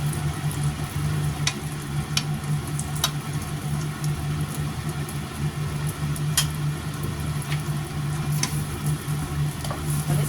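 Red curry paste stir-fried in a little oil for a Thai pork and eggplant curry, a steady close sizzle with occasional scrape and tap of the spatula against the pan.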